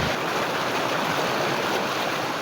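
A river flows beside a campsite with a steady, close wash of rushing water, even and unbroken, with no voices.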